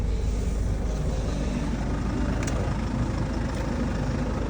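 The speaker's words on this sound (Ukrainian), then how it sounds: "ось безключовий запуск двигуна" A 2015 Ford Kuga 2.0 TDCi diesel engine idles steadily after a keyless start, a constant low rumble held at an even level throughout with no voices.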